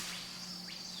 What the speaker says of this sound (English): There's like bees.